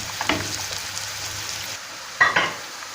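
Onions, spinach and mushrooms sautéing in a pan for a Turkish egg and spinach dish, a soft steady sizzle with a couple of brief clinks and stirring scrapes, close and moderately loud.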